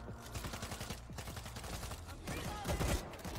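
Gunfire in the video game World War Z, a rapid automatic rattle of shots in dense bursts that continues throughout, loud and close with a brief heavier cluster near the end.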